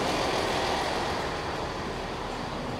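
An Avonmouth line train running between stations, a steady broadband rumble and rush of the train in motion heard from on board, loud and unbroken with no talk.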